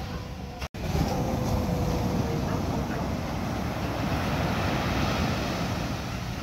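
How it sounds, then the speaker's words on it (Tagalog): Big ocean waves roll onto a beach where fishing boats are heading home, a loud, continuous roar of surf mixed with wind buffeting the microphone and a brief dropout near the start. "Lalaki ngayon ng alon."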